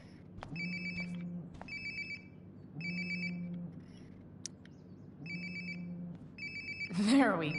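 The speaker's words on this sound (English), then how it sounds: "Sounds like my phone is definitely nearby." A phone rings in the video game Life Is Strange: Before the Storm, repeating in four evenly spaced bursts with a low hum between them, fairly faint and ending in a brief rustle.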